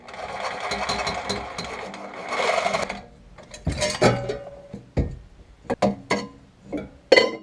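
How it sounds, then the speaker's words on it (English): Reciprocating saw fitted with a Diablo blade cutting through muffler tailpipe, a harsh rapid buzz for about three seconds, then stopping and restarting in short bursts mixed with metallic clanks. "as you can see, that blade really cuts nice"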